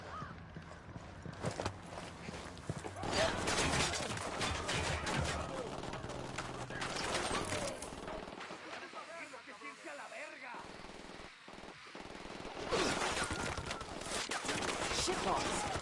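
Rapid bursts of gunfire crackle against a rush of approaching enemies in a shooter, dense and loud from the start, briefly thinning mid-way before surging back into sustained volleys, with voices talking over the fighting.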